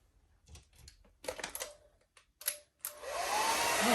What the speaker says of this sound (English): And I also have a blow dryer.